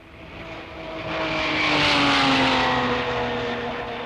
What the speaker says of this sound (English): And here comes the leading Ferrari, Giannino Marzotto, now in second place.